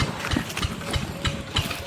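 A motorcycle engine idles close by with a low, steady chugging pulse that thumps in an even rhythm about three times a second, under a rough background rumble.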